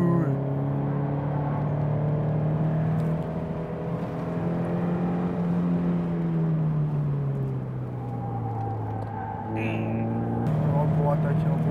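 A Toyota GT86 driving on a race circuit, heard from inside as a steady droning engine tone that rises and falls with throttle, while people talk over it throughout.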